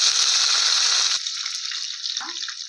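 Curry leaves crackle and sizzle loudly in hot oil already spitting with fried cumin, the bright hiss easing after a second and settling into a softer steady fry.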